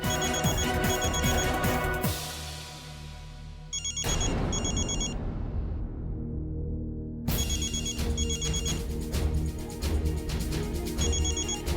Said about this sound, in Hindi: फोन उठाइए बड़ी अम्मी।